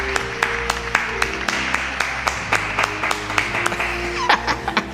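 Audience applause at a students' union awards banquet sounds as scattered, fairly sparse claps over a steady hum and background music, with a little laughter, moderately close in a large room.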